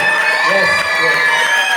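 A church congregation at a youth gathering cheers and claps together: a dense, loud, continuous wash of voices and applause with no break across the short stretch.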